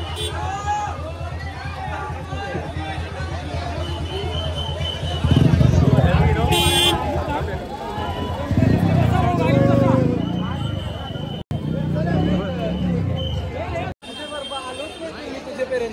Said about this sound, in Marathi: बघा किती गर्दी आहे लालबागला